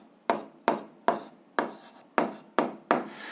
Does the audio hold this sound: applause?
no